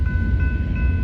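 Train pulled by four engines with a double-decker car passing close: a loud, low rumble with steady whining tones, lasting only a moment.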